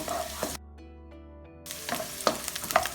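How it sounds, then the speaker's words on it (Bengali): Garlic cloves fry over medium heat in a pan, a crackling sizzle that cuts out for about a second, then returns with busy spattering and stirring clicks. "রসুনগুলো একটু লাল লাল হওয়া পর্যন্ত আমরা ভাজি করব"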